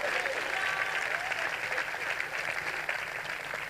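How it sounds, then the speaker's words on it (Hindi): A church congregation claps for the Lord during a preacher's Urdu sermon, steady dense clapping that is fairly loud and continues throughout, with some voices mixed in. "साई दी ताली है"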